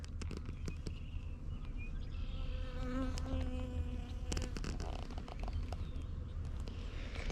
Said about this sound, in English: As you can tell, the bees are active this morning.